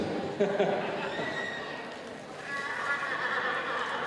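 A dressage horse at a master class calls out with a high, drawn-out neigh over a steady background of arena noise, fairly faint and distant.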